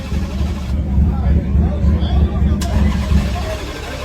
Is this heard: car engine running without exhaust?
yes